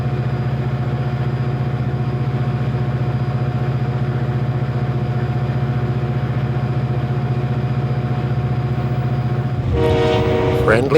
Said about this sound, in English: Friendly waves greet the tour train as it passes Regent, mile 89.